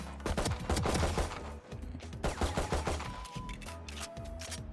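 Rapid rifle fire in Valorant aimed at practice bots, delivered in several quick bursts of sharp, loud shots with brief pauses between volleys and no talk.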